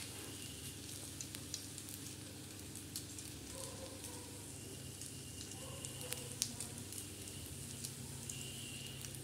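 Egg bread frying on a flat iron tawa gives a steady, quiet sizzle with faint crackles and pops, heard alone with no talk.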